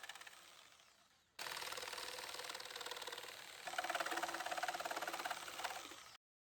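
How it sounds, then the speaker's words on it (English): A jigsaw fitted with a scroll saw blade cuts wood while restyling an old piece of furniture, a steady close buzzing rattle that starts abruptly, grows denser partway through, then cuts off to silence. "That little area needed to be cut off with my jigsaw in order to make it fit"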